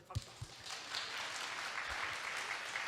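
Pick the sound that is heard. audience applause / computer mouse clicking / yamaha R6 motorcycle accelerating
audience applause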